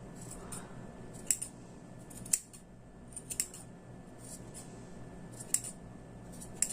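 Scissors trimming a crochet yarn pompom, a series of quiet, crisp snips spaced irregularly over a soft background hush, close by with no speech.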